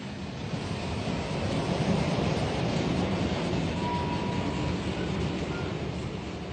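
Long freight train at a barite ore loading site, a continuous broad rumble and rolling noise from the wagons, steady throughout and heard alone.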